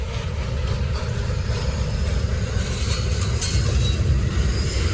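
A Norfolk Southern freight train passes close by in Gaffney, South Carolina. It makes a steady, loud rumble of wheels and cars on the rail, with faint metallic squeals above it and no talk.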